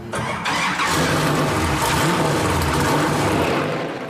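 A racing buggy engine starts on a public road and revs up. It turns over briefly, catches, then holds a loud, rough, steady drone close by with no talking.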